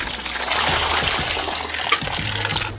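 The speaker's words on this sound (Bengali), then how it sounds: "এগুলো ধুতে হবে তাই জল ভরছি" Tap water runs steadily into a container, filling it to wash vegetables in a home kitchen, a continuous close splashing rush with no talk.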